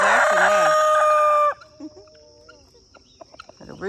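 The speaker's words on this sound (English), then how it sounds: "Little roosters." A rooster crows close and loud on an early morning mini farm in Ghana, one long crow followed by quieter clucks and distant farmyard bird calls.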